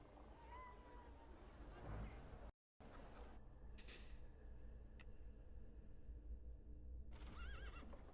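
Horse neighs and whinnies in The Thaumaturge, a high wavering call followed by a second shorter one, set against steady game ambience with faint hoof clops, all fairly loud with no talking.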